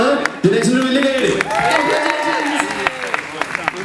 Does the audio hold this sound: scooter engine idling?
no